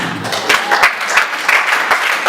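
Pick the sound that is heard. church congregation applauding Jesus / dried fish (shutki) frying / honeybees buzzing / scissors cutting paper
church congregation applauding Jesus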